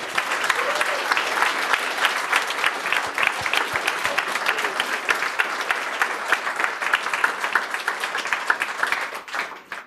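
Sustained, dense applause from an audience at the closing presentation of a youth hackathon in Munich fills the room evenly for about ten seconds before fading at the end.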